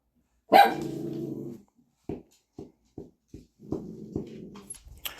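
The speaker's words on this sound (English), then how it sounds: "Dogs were barking a little bit." A dog lets out a sharp bark that trails into a growl, followed by a series of short separate barks and grumbles nearby in an otherwise quiet room.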